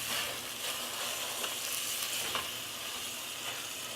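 Ground beef browning in a pot over medium heat gives a steady close sizzle and crackle, with faint stirring scrapes coming and going.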